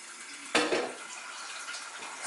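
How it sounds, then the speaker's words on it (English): Tap water gushing into a bucket while mixing homemade kiwi country wine, a sudden loud splash as the flow starts, then a steady hiss of filling. "I'm going to add the rest of the water, and I'm just going to use tap water for this."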